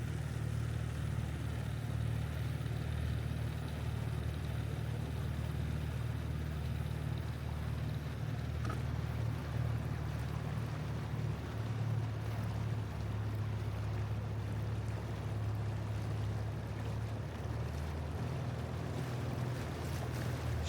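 A boat's engine hums low and steady in a marina in Bodrum, a constant droning rumble with faint water and wind wash around it, distant and unbroken for the whole stretch, no talking.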